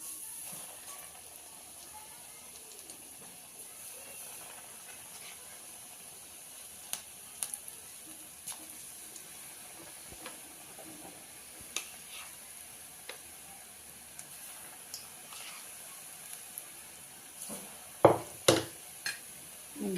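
Bhaji fritters deep-fry in hot oil over a low flame, a soft, steady sizzle with scattered crackles and pops that grow louder and more frequent toward the end.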